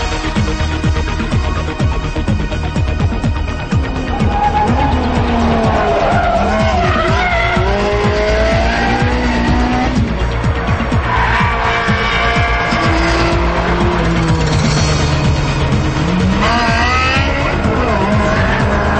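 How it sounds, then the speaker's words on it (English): A Ferrari 360 Modena with F1 gearbox is driven hard around the Fiorano circuit, its engine revving loudly and continuously while tyres squeal through the corners, close and sustained throughout. "put the handling to the test on Ferrari's own Fiorano circuit"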